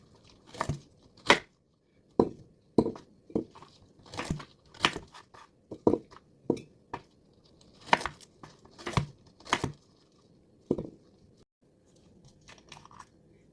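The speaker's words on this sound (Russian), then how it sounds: "Нарезаем на кусочки." A knife chops through firm maclura fruit (Adam's apple) on a board, sharp crunchy cuts landing in an irregular series of about fifteen strokes, close and distinct against a quiet background.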